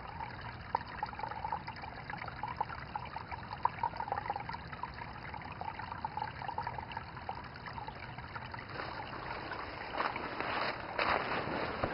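Water trickles and gurgles at night around a tripod standing in a shallow stream, a steady close babble with small splashes that grows a little louder toward the end, and no voices.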